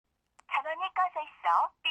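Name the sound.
telephone number being dialed in audio drama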